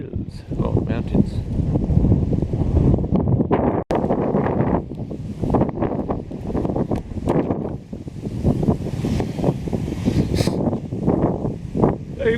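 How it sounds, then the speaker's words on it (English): Strong, gusty wind on a mountain top on the Baw Baw Plateau buffets the microphone with a steady roar and rustle, broken by brief dips, for the full length of the clip. "Very windy, which means I must be at the top of the mountain."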